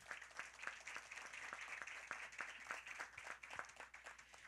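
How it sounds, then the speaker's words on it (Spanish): A crowd applauds Colombia's vice president at a COP-16 event, with brisk, dense clapping heard from a distance and held at a fairly quiet, steady level for a few seconds. "pedindo uma salva de palmas à minha amiga e vice-presidenta da Colômbia"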